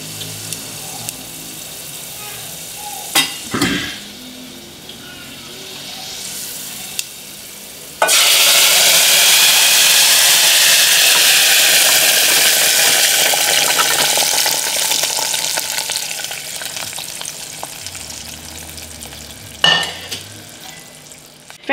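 Rasam poured into a hot mustard seed and cumin tempering, erupting into a loud sustained sizzle that slowly fades, preceded by quieter clinks and stirring in the pan.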